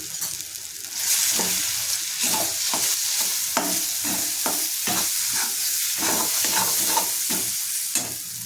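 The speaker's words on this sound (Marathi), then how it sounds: "आता त्याच्यामध्येच आपण जे मूग बारीक वाटून घेतलेले ते भाजून घेऊयात" Coarsely ground moong dal roasting in ghee in a pan for halwa, filling the clip with a loud, continuous sizzle and rhythmic scraping stirs throughout.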